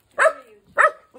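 Small dogs nearby give two loud, sharp barks about half a second apart, followed by a faint short yip; no one speaks.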